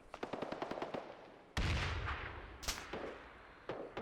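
Gunfire in the military shooter Arma 3: rapid machine-gun bursts rattle off in quick succession, then heavier, louder booming shots crack in, with a few more reports trailing after.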